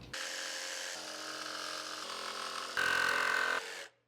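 A saw with an upcut blade cuts through plastic panels inside a Ford Transit crew van, giving a loud, steady buzzing whine that shifts pitch as the load changes, then stops abruptly.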